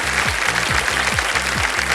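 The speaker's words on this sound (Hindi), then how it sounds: "ताली बज गई।" Studio audience on a Kaun Banega Crorepati game show clapping in a loud, brisk burst of rhythmic applause after a correct answer, with no one speaking over it.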